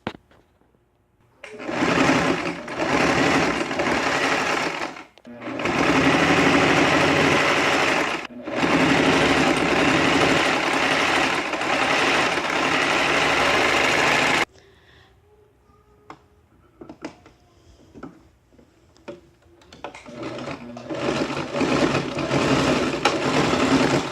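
Sewing machine stitching a seam on a draped jacket, running in long steady buzzing bursts up close, stopping briefly between runs, with a quieter stretch of small handling clicks before the motor starts again.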